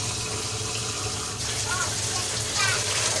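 Water pours steadily from a tap or glass into a cooking pot for khichdi of rice and dal, a continuous gushing fill with faint talk in the background.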